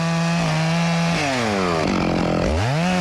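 A chainsaw trims the flares from the base of a black walnut tree. The engine drones loud and continuous, bogging down in pitch as it bites into the wood and then revving back up.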